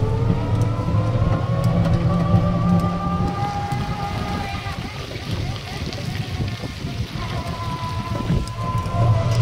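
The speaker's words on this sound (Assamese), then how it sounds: "ইয়াত বৰষুণ দিলে পুৰা" Rain falls during a ride in an auto-rickshaw through Jorhat town, a steady wash of rain noise blended with the vehicle's engine hum, continuous and fairly loud throughout.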